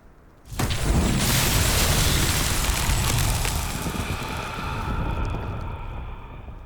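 Confringo blasting spell in Hogwarts Legacy, a sudden loud explosive boom that bursts in after a brief pause and rolls on as a dense, roaring rumble, slowly fading while staying close and heavy.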